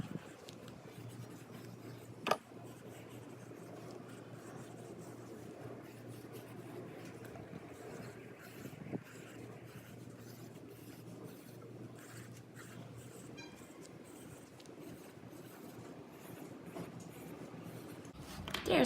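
Pencil drawing a pattern sketch on paper, a soft continuous scratching and rubbing of graphite close by, quiet and steady with a few sharper ticks, no talking.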